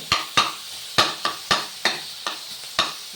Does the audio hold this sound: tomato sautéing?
yes